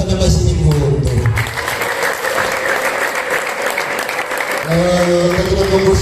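Guests at a wedding in Rusizi applaud loudly and steadily throughout, with voices rising above the clapping at the start and again near the end.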